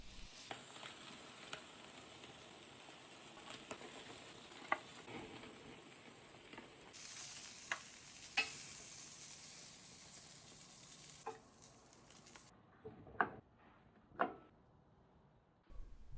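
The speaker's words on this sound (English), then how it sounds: "Then in the final 2 minutes, we placed the asparagus on to grill." Asparagus sizzles on a Weber Q+ Premium 2600N gas grill with a steady crackling hiss, occasional pops and clicks, and the sizzle cutting off near the end, leaving a few louder knocks.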